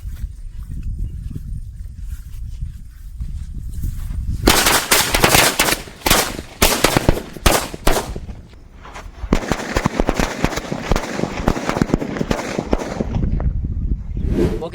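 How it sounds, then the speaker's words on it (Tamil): A string of chili firecrackers goes off in a rapid crackling barrage of sharp, loud pops, with a brief lull partway through before a second dense burst, all outdoors and close by. "அந்த மிளகா பட்டாசு சரம் பார்த்தா நல்லா வெடிச்சது."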